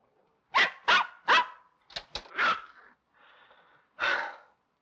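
A dog barks in a scene from a 1957 film, a series of sharp, close barks and yelps with a few panting breaths between them, then a final bark after a brief pause.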